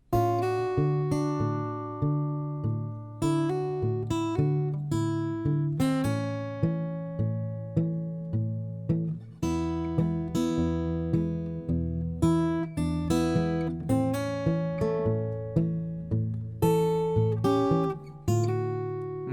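Acoustic guitar fingerpicking a blues tune at full speed, an alternating thumb bass under plucked treble notes in a steady, continuous rhythm, played alone and up close with no talking.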